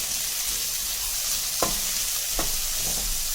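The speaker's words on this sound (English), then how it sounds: "Now add the onions to it. Saute it for a while." Onions sautéing in heated oil for a vegetable sandwich, a steady close sizzle broken by two soft scrapes of a stirring spoon.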